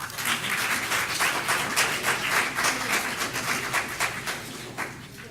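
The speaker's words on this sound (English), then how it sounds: "Give them all a round of applause." An audience applauds at a school district board meeting, with a steady, dense patter of many hands clapping that holds for several seconds before easing slightly at the end.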